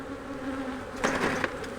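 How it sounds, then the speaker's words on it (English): Honey bees buzz around an open beehive as a new box is slid on at an angle, a low steady hum that swells briefly louder for about half a second before settling back. "Give the bees that are in the way a chance to move."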